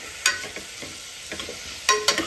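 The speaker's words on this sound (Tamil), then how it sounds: "வதங்குற வரைக்கும் வெயிட் பண்ணுவோம்." Ingredients for black chickpea kurma sauté in a pan with a soft, continuous sizzle, broken by several sharp, close spatula scrapes and stirs at an uneven pace.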